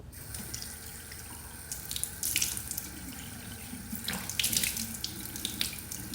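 Running tap water pours steadily into a bathroom sink while someone rinses their face, with splashing bursts and drips over the continuous flow, close and fairly quiet.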